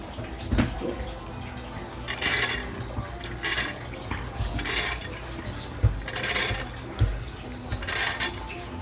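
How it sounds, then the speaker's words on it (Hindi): Chana dal poured into a cooking pot, heard as several short rattling, rushing bursts of grains spilling in between clinks of pot and utensils, close and fairly loud with no talking. "और अब मैं इसमें डाल रही हूँ चने की दाल।"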